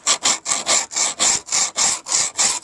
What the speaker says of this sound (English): Grinding that back, and then we'll look for any other pinholes.